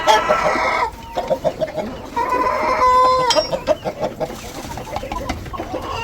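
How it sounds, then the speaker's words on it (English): Chickens cluck and squawk close by, one rooster's call rising among six hens' chatter in a busy, continuous coop din. "In here we have one rooster and 6 hens."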